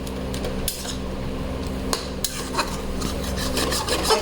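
Fresh kitchen-garden vegetables stirred in a cooking pot, a steady scraping and rubbing of a utensil against the pot with occasional sharper knocks, close and clear.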